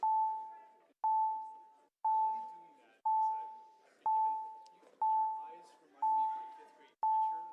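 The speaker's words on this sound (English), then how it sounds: "Can you shut the bells off?" Bells ringing in a city council chamber during an evening session, a repeated electronic chime sounding about once per second with each tone decaying, while people talk in the background.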